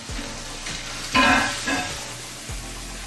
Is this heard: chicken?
no